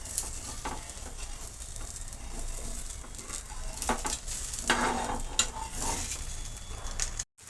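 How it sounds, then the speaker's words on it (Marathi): Rava uttapam sizzling on a hot pan as it is flipped, a continuous soft frying hiss with a few scraping and patting clicks of the spatula, close and steady. "आता पलटी करून घेणार आहे मी याला"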